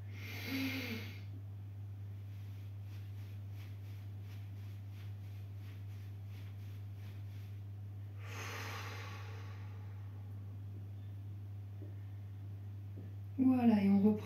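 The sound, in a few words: forceful exhaling breaths during a guided breathing exercise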